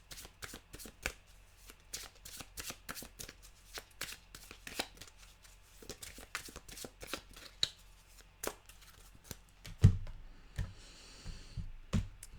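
A deck of animal cards being shuffled, with quick papery riffles and soft flicks repeating in a steady run of bursts, close and fairly quiet, with no talking.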